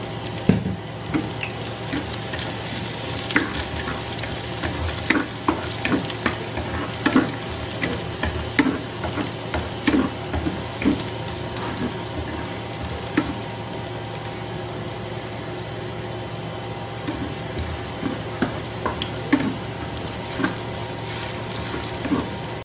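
Chopped garlic fries in a pan for pancit bihon, a steady close sizzle broken by repeated stirring scrapes and clicks, with a faint background hum throughout.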